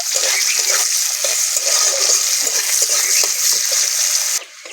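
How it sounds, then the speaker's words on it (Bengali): Chopped onions frying in oil over whole-spice tempering make a close, steady hiss with small crackles, dropping away abruptly at the very end. "পেঁয়াজটাকে ভালো করে ভেজে নেব"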